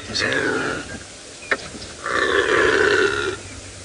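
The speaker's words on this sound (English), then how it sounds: "this is how they all communicate. Just burping at one another." Deep, rasping burp-like calls from animals, a couple of drawn-out bursts with a short sharp click between them, fairly close against quiet background.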